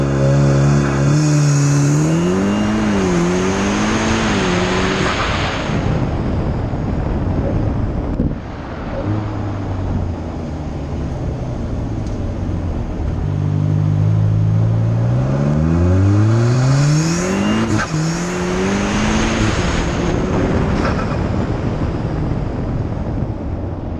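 A tuned 540 bhp VW Golf R accelerating hard, the engine note climbing through rising sweeps with gear changes in two runs, loud and close under heavy wind roar.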